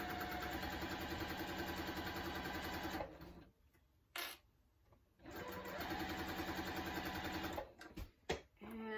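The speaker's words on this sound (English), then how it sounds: "I'm just gonna sew this right down the side." A sewing machine stitching quilt pieces runs in two steady whirring bursts, pausing briefly between them, then stops with a few faint handling clicks, loud and close with no talk.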